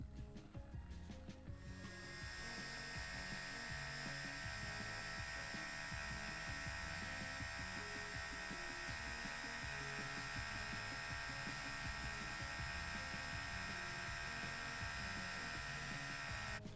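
Faulty Milwaukee M12 drill driver, model 2407-20, running with a loud, steady electric motor whine and mechanical buzz that starts after a brief opening rattle and holds constant without a break.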